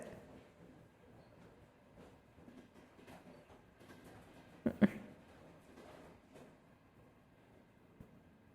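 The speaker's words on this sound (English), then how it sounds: "we've been on the train for a while" A train rolls along in the VRChat game, a faint, low rumble of running wheels with soft rattling, one brief louder clank midway and a small knock near the end.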